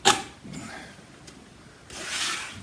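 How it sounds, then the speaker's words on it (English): A utility knife trims the edge of a wide belt sander platen, giving soft scraping and rubbing strokes: a sharp scrape at the start, quieter drags through the middle, and a longer, stronger hiss of cutting near the end, with no talking. "utility knife and follow along this edge here and trim this off"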